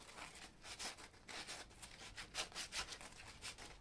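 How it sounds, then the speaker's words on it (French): An old wooden beam being hand-sanded with 120-grit paper, giving soft, steady rubbing strokes in an irregular rhythm, fairly faint and close, with no voices. "ce ponçage est effectué avec un grain 120, il n'y a pas besoin d'aller plus loin"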